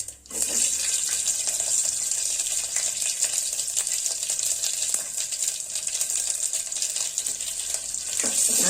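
Mustard seeds and crushed onion fry in hot oil in a pot for buttermilk saaru, giving a continuous bright, hissing sizzle with scattered small pops and no talk.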